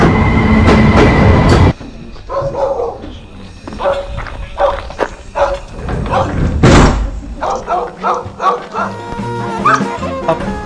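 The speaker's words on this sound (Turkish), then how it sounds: "Evet yine bir istasyona geldik." Busy train station ambience: a loud rumbling train, a door slam, echoing clatter and people talking nearby.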